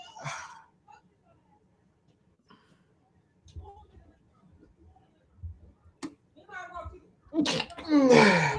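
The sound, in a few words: sneezing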